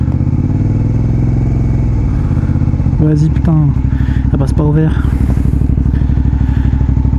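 A motorcycle idles at a traffic light on a hot day, its low, steady engine thrum running throughout while someone talks over it.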